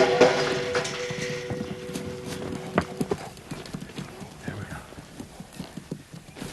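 Hooves of a wild mustang clip-clop on the ground in an uneven stream of close, moderately loud steps, with a brief high whinny-like tone near the start and soft background noise.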